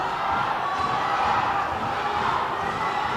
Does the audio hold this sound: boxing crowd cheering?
yes